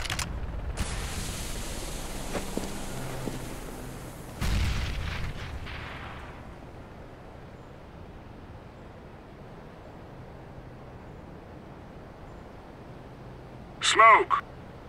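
In Counter-Strike: Global Offensive a grenade goes off with a sharp, heavy boom, then a second nearby blast a few seconds later trails into a fading rumble, followed by a brief metallic clatter near the end.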